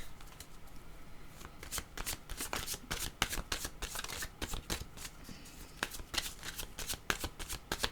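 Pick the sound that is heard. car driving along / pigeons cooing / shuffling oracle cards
shuffling oracle cards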